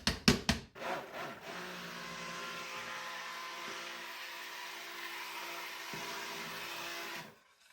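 A blender whirls cold process soap batter, a steady loud motor whine holding for several seconds after a few short knocks, then cutting off abruptly.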